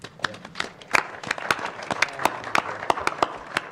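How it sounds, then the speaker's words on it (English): A small group at a city council meeting gives a round of applause, sharp individual claps ringing out in a sparse, uneven rhythm for a few seconds. "let's give a round of applause"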